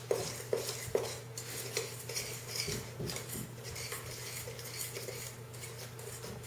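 A spoon clinks and scrapes against a bowl while honey spicy wing sauce is mixed, quick repeated taps at first, then a steadier swirling scrape; close, moderately quiet, no talking.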